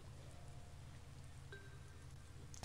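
Drops of water landing in stylized rain buckets in a video game, a soft continuous patter with a low steady hum beneath and a short tonal chime late on.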